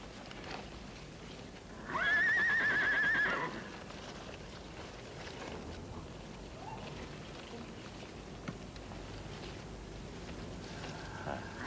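A horse whinnies loudly for about a second and a half, one rising-falling neigh close by, followed by a quiet stretch of faint ambient noise.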